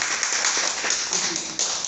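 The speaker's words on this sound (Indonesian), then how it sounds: "Tepuk tangan dulu dong kalau punya potensi." Audience clapping at a cryptocurrency coin seminar, a dense, steady patter of many hands in a hall for about two seconds, with a few sharper claps standing out.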